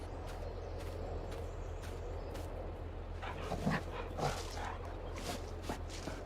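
A dog in Farming Simulator 22 yips and whimpers in short, fairly faint bursts over a steady low game hum.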